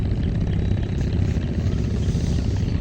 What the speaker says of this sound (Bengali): দেখছো ওই যে ট্রলার আসতেছে, কত বড় ট্রলার, শব্দে হয়ে গেছে।